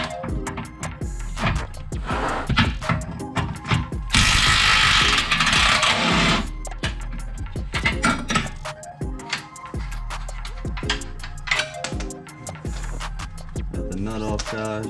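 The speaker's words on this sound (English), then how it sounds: "I'll be using this for both of these nuts while I shoot the bottom bolt out with the impact" Pneumatic impact wrench working on the lower control arm bolt of a 2013-2018 Nissan Altima, a harsh rattling burst of a couple of seconds amid clanking tools and shop noise.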